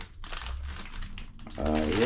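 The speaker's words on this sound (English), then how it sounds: "It's just in a big plastic bag." A big plastic bag crinkles and rustles around a new engine crankshaft for a rebuilt Yamaha Banshee, handled up close in a garage with steady crackling throughout and a voice talking over it.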